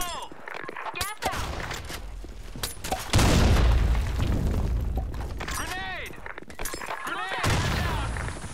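A grenade blast and gunfire in the shooter Blackshot during a competitive match: sharp shots crack early, then a heavy explosion roars and rumbles for several seconds, followed by more scattered shots, with voices calling out over the action.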